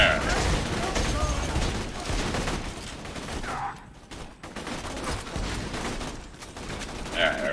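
Gunfire in Borderlands 2 crackles in dense bursts through the whole stretch, a busy firefight with short lulls, while players talk over it.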